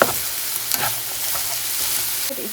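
Onions and garlic fry in butter with a steady, close, dense sizzle and occasional soft stirring scrapes.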